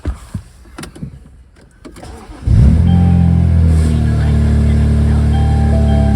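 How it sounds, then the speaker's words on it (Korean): A BMW Z4 sDrive35is (E89) with a turbocharged engine makes a cold start: a short starter whir is followed by a loud catch and a steady high idle that holds close by, after quiet movements in the cabin. "마지막으로 시동을 한번 걸어보겠습니다"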